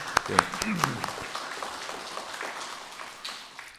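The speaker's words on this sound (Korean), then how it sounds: "박수로 한번" Brief applause from a church congregation during a Sunday service, a few sharp claps up front softening into a fading patter, with a voice speaking over it.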